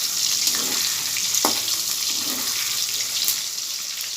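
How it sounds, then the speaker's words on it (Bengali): Paneer pieces fry in a pan with a continuous hissing sizzle, broken by a few faint utensil taps and scraping stirs. "বেশি কড়া ভাজবো না পনিরগুলোকে"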